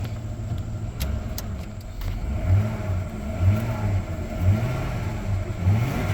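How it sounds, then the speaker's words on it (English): A car engine revs up and settles several times in a steady rhythm, close by and fairly loud, with no talking. "Rev it a time or two."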